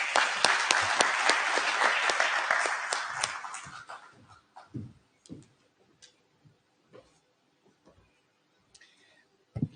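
A conference crowd in a Kampala hotel hall applauds thickly for about four seconds, then the clapping dies away into a few isolated, sparse claps against near silence.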